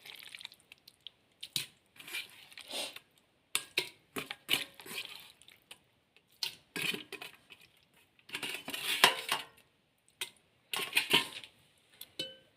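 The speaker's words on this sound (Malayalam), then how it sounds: "ഇത് ഞാൻ കുക്കറിലിട്ട് വേവിക്കാൻ വേണ്ടി പോവാണ്." Chopped beef, washed clean, dropped in small bursts into a pressure cooker for kappa biryani, giving soft wet squishes and clattering bits in quiet, irregular handfuls.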